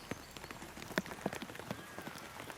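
Rain patters onto a surface at a bird-feeding site in Lancashire, with scattered drops and taps standing out against a steady soft hiss, fairly faint overall.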